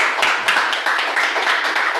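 A small Toastmasters club audience gives a round of applause, a short burst of uneven clapping from a modest group, close and fairly loud, with no talking.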